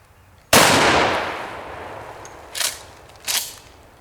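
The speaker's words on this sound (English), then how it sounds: "let's see what a slug can do. We're going to shoot this 2-liter bottle up here." A single loud shotgun blast from a Remington 870 firing a slug at a 2-liter bottle outdoors, sharp and decaying, followed by two fainter distant bursts or echoes.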